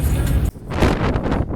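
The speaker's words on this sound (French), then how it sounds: "il y a du vent, ça caille" Wind buffets the microphone outdoors during a road trip in New Zealand, a loud rough rumbling roar with a brief dip mid-clip before gusting back strongly.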